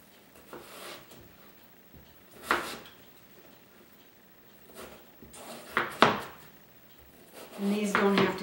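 A knife cubes vegetables on a cutting board in a demonstration kitchen, with scattered sharp chops against the board and some clatter and handling noises, growing busier toward the end as someone talks intermittently.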